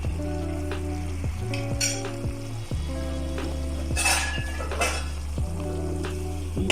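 Cleaned fish laid into a hot pan sizzles steadily up close, with clinks and scrapes of a utensil against the pan and a few brief louder bursts as pieces settle, no voices.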